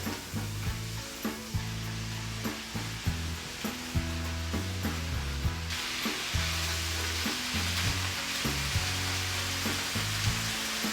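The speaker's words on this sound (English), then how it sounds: "I'll add my broccoli and tofu to the mix and stir it all together" Carrots, onion, broccoli and tofu sizzle in a sauce while being stirred, a steady hiss with light scraping over a rhythmic, tonal backing beat.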